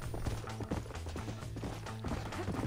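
Horse hooves clip-clop in Red Dead Redemption, a steady, rhythmic trotting beat carried under continuous game music, with no voices.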